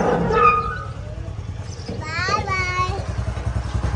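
A motorcycle is taken out through the gate of a house, its low engine rumble pulsing steadily underneath. An adult and someone talk over it.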